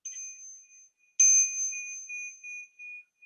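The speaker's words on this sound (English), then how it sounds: "my mindfulness bell, that sounds like this." A mindfulness bell rings with a clear metallic strike, then a bright, sustained tone slowly fades and shimmers on, alone and fairly soft.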